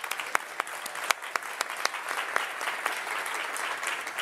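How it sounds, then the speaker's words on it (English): A conference audience claps for a first-time presenter, a steady wash of applause with sharp individual claps standing out, sustained for several seconds at a moderate level. "So let's give her another round of applause"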